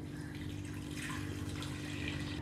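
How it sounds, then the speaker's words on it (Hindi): Half a litre of water poured into a cooking pot of goat trotters with chilli, turmeric and coriander powders, giving a steady, continuous splashing pour close by, without speech. "इसमें 1/2 लीटर पानी ऐड कर रहे हैं."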